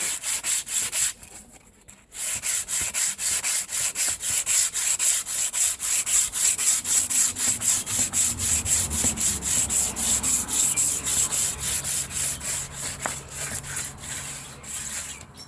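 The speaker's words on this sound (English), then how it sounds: "Now I'm sanding this on a block just to get any of the humps and hollows" A wooden turbine blade is sanded by hand on a sanding block, giving loud, rhythmic rasping strokes that repeat steadily after a brief pause near the start.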